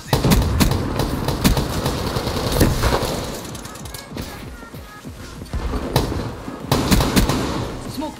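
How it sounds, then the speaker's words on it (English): Brecci shotgun fire in Call of Duty Black Ops 3, loud repeated blasts and bursts of gunfire with game effects over a dense, busy background. "this Brecci is just... It has to be the best shotgun ever"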